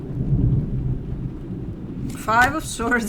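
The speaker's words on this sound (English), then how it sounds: "We're gonna have storms all day, so you might hear a little bit of that going on." Thunder rumbles low and steady outside during a storm, a continuous distant roll heard alone at first, then partly masked when a voice starts talking near the end.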